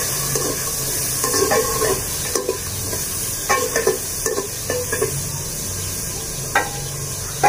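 Onions browning in a pot for chicken biryani in a Pakistani village kitchen, with a steady sizzle under scattered scraping stir strokes and light clinks, close by and with no talking.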